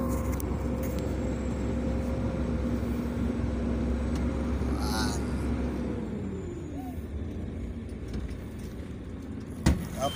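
An Astra dump truck's diesel engine runs with a loud, steady low rumble as gears are shifted, the pitch rising and then dropping partway through, with a brief knock near the end.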